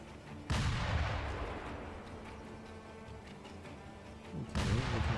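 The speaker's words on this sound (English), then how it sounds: "Oh, he will shoot at us." Enemy gunfire from the Sekiro: Shadows Die Twice video game: a loud blast opens, decays into a rumbling tail, and a second loud shot follows near the end, with no talk.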